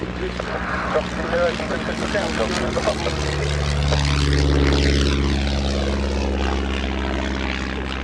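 Propeller trainer aircraft flying past at an air show, a loud steady engine drone that swells and sweeps in pitch as it passes overhead, with some voices in the background.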